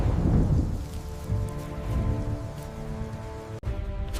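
Steady rain pours through a thunderstorm overhead, with low rumbles of thunder beneath sustained background music for the whole stretch.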